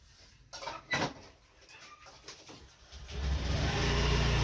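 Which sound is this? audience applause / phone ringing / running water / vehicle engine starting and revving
vehicle engine starting and revving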